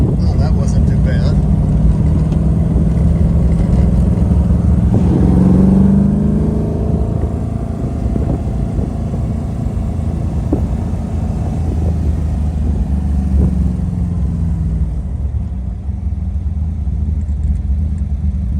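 A Ferrari 250 GT California replica engine on the road in low gear, a deep, steady drone that rises and falls in pitch as the car moves and slows, heard close from inside the car.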